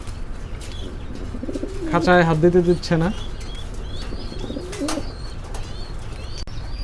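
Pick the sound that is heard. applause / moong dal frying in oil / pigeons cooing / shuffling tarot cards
pigeons cooing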